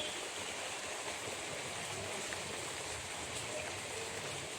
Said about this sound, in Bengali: বৃষ্টি তো আবারও জোরে আসতেছে